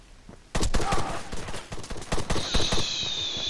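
A burst of rapid gunfire in the ARMA 3 military shooter breaks out after a quiet start, with loud, closely spaced cracks going on for several seconds, followed by a high sustained ringing tone.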